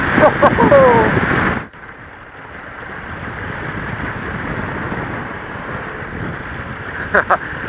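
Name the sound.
strong wind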